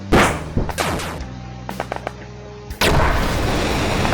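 Mortar and artillery fire in a Warhammer 40K base-defense strategy game: a rapid volley of sharp, loud blasts and gunfire cracks, a pause with scattered shots, then a dense sustained roar of impacts.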